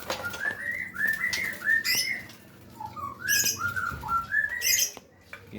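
A white-rumped shama (murai batu) calls in a run of clear, rising whistled phrases repeated several times, with sharper high chirps between them, sounding close and steady over low background noise.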